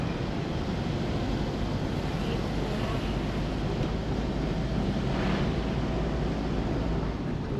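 Kipot Twin Falls at a mountain resort in Sitio Abacca, Barangay Mailum, Bago City, gives a steady, dense roar of falling water that stays loud and unbroken throughout, with no voices over it.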